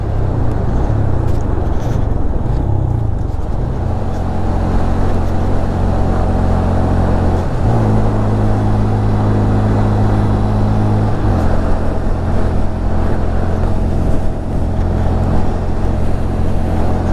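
A 2022 Honda Grom SP motorcycle with a fatbar fitted hums along loud and steady while ridden, a continuous low engine drone with wind rush and a brief shift in pitch partway through.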